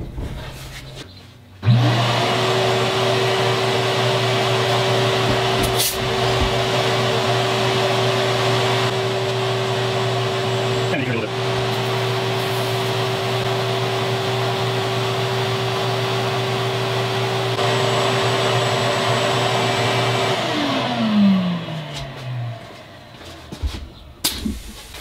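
A sandblasting cabinet fed by a pressure pot and PAB blaster blasts a travertine workpiece, giving a loud, steady roaring hiss with a constant low tone that starts abruptly, runs for about twenty seconds, then winds down.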